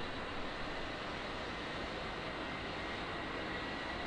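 In DCS World, an A-10C Warthog's jet engine spools up: a steady, dense turbine roar holds at an even level for a few seconds, with no voice over it.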